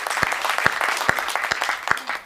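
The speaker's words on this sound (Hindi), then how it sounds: "एक बार मेरे सम्मान में भी ताली बजाओ" A live comedy audience breaks into rhythmic clapping with sharp, evenly spaced claps over a scattered crowd wash, fairly loud and close, with no talk on top.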